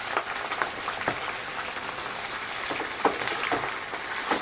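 Amaranth and gongura leaves fry in oil in a pan for a chutney, giving a steady close crackling sizzle with scattered sharp pops, heard alone without talk.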